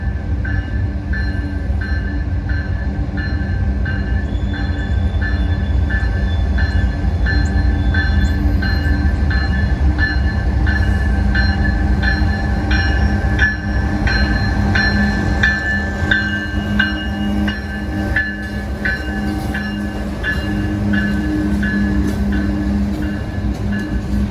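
A 152-car CSX freight train running down a street rumbles past steadily for a long stretch, with rolling wheel clatter and faint metallic squeals over a constant low roar; no one speaks.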